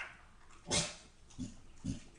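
A dog makes a few short, low grunting and whimpering noises, three brief bursts spaced about half a second apart, fairly close and alone with no talking.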